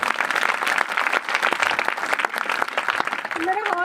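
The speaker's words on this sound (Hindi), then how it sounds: "जोरदार तालियों से महिमा करें।" Enthusiastic clapping from a church congregation during a testimony service, sharp individual claps and cheering voices blending into a lively, uneven burst that ends with a raised voice.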